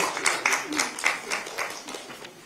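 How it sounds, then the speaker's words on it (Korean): A crowd at a Democratic Party event in Korea, marking the handover of a presidential election white paper, claps in quick uneven bursts that fade after a couple of seconds. "큰 박수 부탁드립니다."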